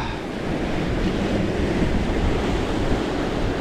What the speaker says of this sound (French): le vent il s'est bien levé en plus